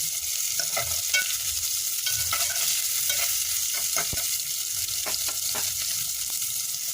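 Onion and green chillies sizzle steadily in hot oil in a pan for fenugreek-leaf sambar, with a constant close frying hiss and intermittent scrapes as the mixture is stirred.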